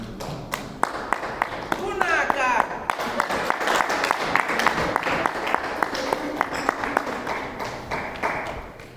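Conference audience at an international congress panel applauds, a mix of scattered individual claps and thuds that builds into fuller clapping, with some voices underneath.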